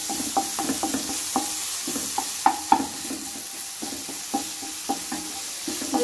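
Ginger garlic paste sautés in a pan with a soft, constant sizzle, broken by repeated sharp scrapes and clicks of a spoon stirring against the metal, close up with no talking.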